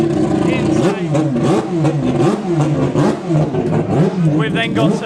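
Formula 1 car engine revving loudly and continuously at the Goodwood Festival of Speed, a harsh high-pitched scream rising and falling in repeated pulses, close and dominant throughout.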